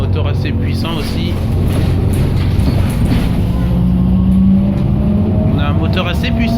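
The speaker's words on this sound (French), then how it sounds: "On sent qu'on a un moteur Iveco," Diesel engine of an Iveco Urbanway articulated city bus while driving, a steady low rumble and drone heard from inside the vehicle, with a voice talking over it.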